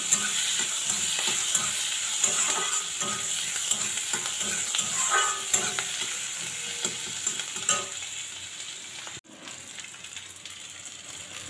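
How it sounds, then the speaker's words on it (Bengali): Sliced onions and green chillies fry in mustard oil with whole cumin and five-spice, giving a steady close sizzle broken by repeated scraping stirs of a spatula in the pan. "দেখো ভাজা হয়ে গেছে পেঁয়াজ আর লঙ্কা।"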